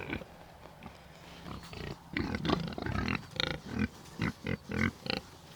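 Pigs grunting on a farm while being sorted before farrowing, a series of short guttural grunts and snorts growing more frequent toward the end, close by with low background noise.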